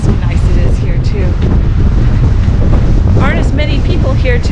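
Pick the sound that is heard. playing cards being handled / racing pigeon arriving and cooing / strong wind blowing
strong wind blowing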